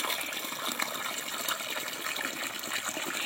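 Abundant water gushes steadily from a mountain source at the foot of a hill in a rural village during rain, a dense, continuous rushing wash that stays loud and close throughout with no voices.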